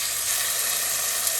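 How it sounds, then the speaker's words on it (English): Meat sears in hot oil for an Italian beef sandwich, giving a steady, close, bright sizzle with fine crackling that holds evenly throughout, no voices over it. "The sound and the sizzle."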